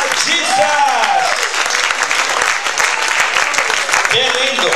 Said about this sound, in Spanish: ¡Un aplauso para Jehová Jesús!